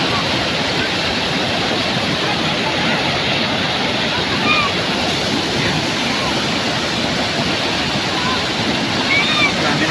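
A waterfall pours with a steady, loud, unbroken rush of water close by, and faint voices sit under the roar.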